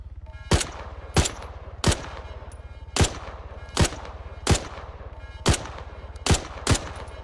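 Sharp gunshots from enemies in the video game Arma 3 crack out in a steady series of about ten evenly spaced reports, loud and close, over a constant low engine-like drone.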